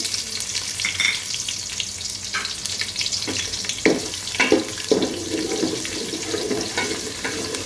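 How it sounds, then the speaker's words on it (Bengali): A cup of onions for vuna khichuri fries in a pan with a steady sizzle. Scraping stirs and clattering strokes break through at intervals, with no talking. "একটা পেঁয়াজ দিয়ে আমি খুব ভালো করে নেড়ে নিচ্ছি।"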